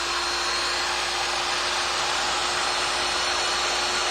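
A heat gun blowing steadily for wood burning on a chalk couture deer cutout, a loud, even, continuous airy roar with a faint fixed hum and no pauses.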